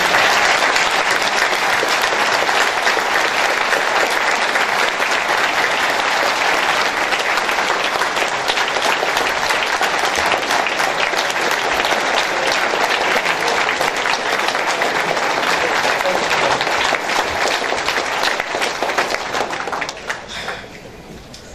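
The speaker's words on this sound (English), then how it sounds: "I'd like to give them a round of applause because they've done it" A large audience at a sheriff's press event gives a sustained round of applause, dense and even clapping that holds steady for about twenty seconds before tapering off at the end.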